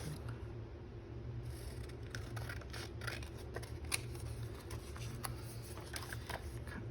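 Scissors snip through paper pieces in a quiet room, soft repeated cuts and rustles over a steady low background hum, with no talking.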